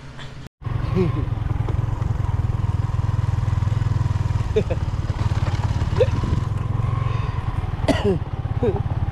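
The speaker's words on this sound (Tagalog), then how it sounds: "Sana makaahon itong motor namin." Motorcycle engine labouring uphill, a loud close steady drone after a brief cut at the start, with a voice speaking and coughing over it.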